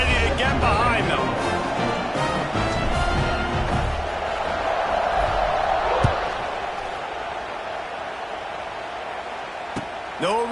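A football stadium crowd roars steadily before a kickoff, a dense wash of cheering under a commentator's voice, with a couple of sharp thuds cutting through.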